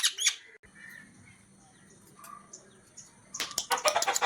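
A pet parrot lets out sharp, harsh squawks in a loud burst at the start, then quieter calls, and ends with a dense run of loud repeated squawks close by.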